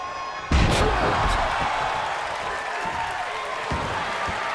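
A heavy wrestling slam, the accordion wreck move in the game WWE 2K23, lands as one loud impact followed by sustained crowd roar and commentary-style talk, with a smaller thud near the end.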